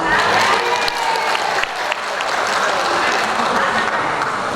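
Audience applause from the attendees at a World Antimicrobial Awareness Week 2022 event, a dense, steady clapping that fills the whole stretch at high volume, with faint voices mixed into the crowd.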